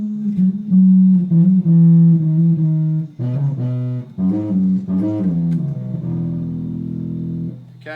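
Bass guitar playing the intro riff of a song, with hammer-ons and an open E; a sequence of distinct plucked notes and short phrases, ending on a sustained low note, close and solo without talking.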